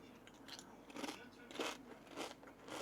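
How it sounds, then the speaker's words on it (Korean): Crunching bites of cucumber-flavored Lay's potato chips, a few crisp crackly bursts spaced about half a second apart, close and fairly quiet with faint background between bites. "이거 오이맛 레이즈."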